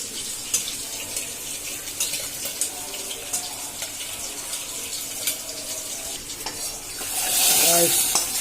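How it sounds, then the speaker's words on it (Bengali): Onions and garlic fry in oil in a pan, a steady low sizzle with stirring, swelling into a louder, brighter hiss near the end. "পেঁয়াজ ভাজা হইতেছে,"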